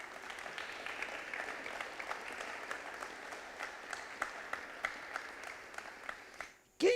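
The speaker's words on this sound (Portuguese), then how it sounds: "E uma salva de palmas para Jesus." A church congregation claps together during a Thursday evening worship service, a steady dense applause that holds at moderate level for several seconds before tapering off, with a brief louder noise right at the end.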